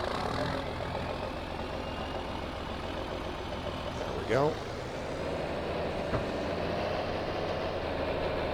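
A farm tractor's diesel engine runs at a steady idle nearby, a continuous low rumble under a brief spoken remark, with a short squeaky mechanical sweep midway and a faint knock later.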